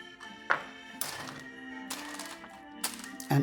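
A knife chops rested pasta dough into four portions on a board, with sharp thunks and taps at irregular intervals, close and fairly loud, mixed with brief clattering, no speech.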